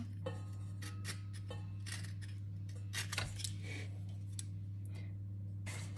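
Quiet snips and small scraping clicks of a knife slitting open a dry vanilla pod, over a steady low hum, close by and without speech.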